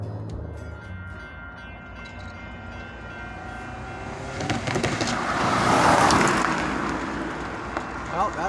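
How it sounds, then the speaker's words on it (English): A Union Pacific intermodal freight train heading west toward Yuma, Arizona, rumbling past a railroad crossing, rising from a distant hum to a loud close roar with clanking wheels near the end. "we got a Union Pacific intermodal heading west toward Yuma, Arizona."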